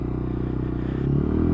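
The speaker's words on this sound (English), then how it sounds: "Great little sound to the exhaust though" A Lexmoto Tempest E5 motorcycle's exhaust rumbles close by with a grunty, steady low thrum that rises slightly in pitch and loudness toward the end, heard alone without any talking.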